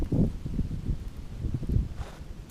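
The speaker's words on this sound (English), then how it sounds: "It's really windy today" Gusty wind buffets the microphone in low, uneven thumps and rumbles, with a faint rustle between the gusts.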